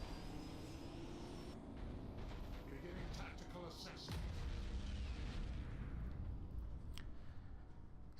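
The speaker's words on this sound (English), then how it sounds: "He's still getting those mega cannons hits" Heavy mega cannon fire in a Space Marines multiplayer game: a dense, rumbling barrage of booms with sharp impacts, swelling louder midway and continuing as a steady roar.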